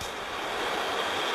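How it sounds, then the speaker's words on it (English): Water rushes steadily through a creek upriver of the South Umpqua River, a dense continuous broadband wash heard up close with no voices over it. "I'm in the middle of the creek again"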